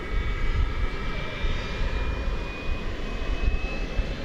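A UPS Boeing 767 at DFW Airport at night, its jet engines giving a steady, loud roar with a faint high whine, continuous and unbroken throughout.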